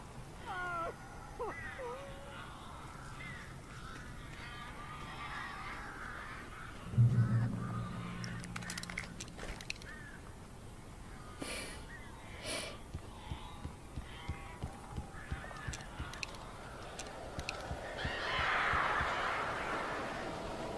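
Squawking, honking bird cries from strange birds in the Alan Wake video game, in scattered faint bursts around a quiet interior, with a louder flurry near the end and a low thump partway through.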